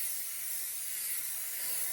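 Hair spray from an aerosol can misted over curled hair, one continuous close hiss lasting about two seconds, loud and steady, without any talking.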